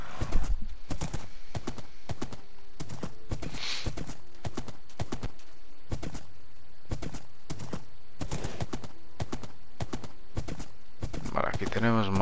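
Horse hooves clopping in Minecraft as a horse is ridden across terracotta and red sand terrain, a loud regular run of sharp clip-clop beats with a brief neigh near the end, and no talk over it.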